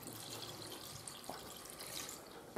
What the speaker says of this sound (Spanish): Ahora echamos el agua que dejamos.